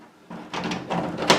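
A vintage door with a freshly repaired lock swings shut, giving a few soft wooden bumps and a final quiet clunk as it meets the frame, with no talking over it.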